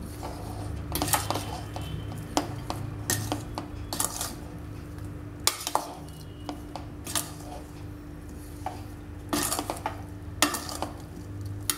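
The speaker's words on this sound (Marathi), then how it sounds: "हे सगळं साहित्य टाकून व्यवस्थित हलवून घ्यायचं आहे।" Spoon stirring instant amla pickle ingredients with turmeric in a bowl, a series of close scraping clinks and knocks in an irregular rhythm over a steady low kitchen hum.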